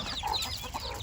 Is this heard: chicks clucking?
yes